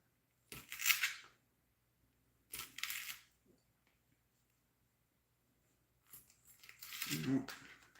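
A knife slices sausages in half with three separate crisp cutting strokes on a board, each short and close, with quiet pauses between and no talk.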